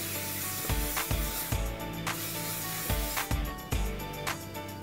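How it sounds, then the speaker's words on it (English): Hairspray sprayed onto a neat low hair bun, several short pressurised hissing bursts from an aerosol can with brief pauses between them, close and fairly soft. "take some hairspray and spray those in place"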